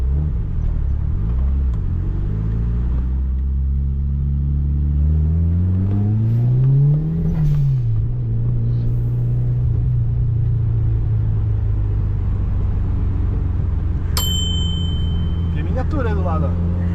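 A 1996 Mitsubishi Lancer Evolution IV GSR on a test drive, its engine droning low and close, rising and falling through revs and gear changes with a steady rumble, no talk.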